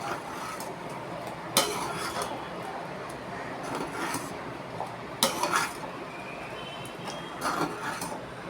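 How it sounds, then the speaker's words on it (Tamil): Semolina (rava) stirred in a pan for pineapple ghee rava kesari: soft, steady scraping with a few sharper clinks of the spoon against the pan at intervals, close and fairly quiet. "ரவா ஆட் பண்ணிவிட்டு நல்லா கட்டி சேராமல் கிண்டணும்."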